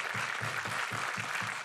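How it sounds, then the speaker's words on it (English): A large audience at a live stage event breaks into loud, dense applause, steady and continuous throughout, with a low rhythmic thumping pulse beneath it. "One more round of applause for yourselves."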